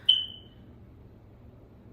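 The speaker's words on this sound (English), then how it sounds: "So sorry about the beeping, because that one's just now started beeping" A single short, sharp chirp from a home smoke detector signaling a low battery, fairly loud and close, followed by a quiet room hum.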